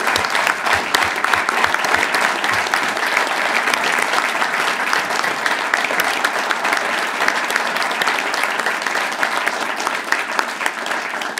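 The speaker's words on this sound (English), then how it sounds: "That's who deserves a round of applause." Steady, dense audience applause fills a township board of commissioners meeting room, continuous and loud from start to finish with no pauses.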